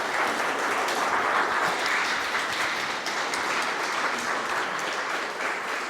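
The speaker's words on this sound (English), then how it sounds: "So please give a warm round of applause for Steve Sweeney." A roomful of people at a political party event claps steadily and warmly to welcome a speaker, the dense applause filling the space without pause.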